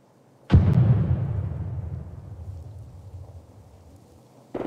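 Grenade blast from the America's Army 3 PC game on a grenade range: one sudden loud boom with a rumbling tail that fades over several seconds, heard alone.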